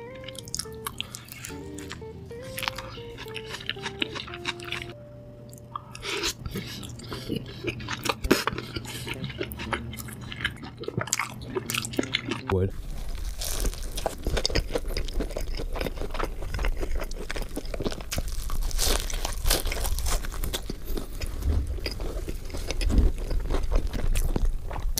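Crunchy bites and wet chewing of In-N-Out Cajun fries with spread, close and steady, alone with no talk, preceded by a stretch of music.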